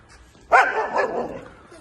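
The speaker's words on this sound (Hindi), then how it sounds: "भौंकना शुरू कर दिया इसने।" One sharp dog bark rings out nearby in a village in the morning, loud and sudden, followed by a short fading tail.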